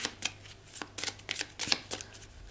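Tarot cards being shuffled, a quick series of crisp riffling bursts in an uneven rhythm, close and fairly quiet, with no talking.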